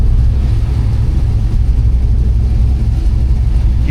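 Steady low engine drone from a car with a Holley Terminator X drive-by-wire setup and a Tremec TKX transmission, cruising at 1200 to 1400 RPM, heard from inside as a loud, constant rumble with no talk.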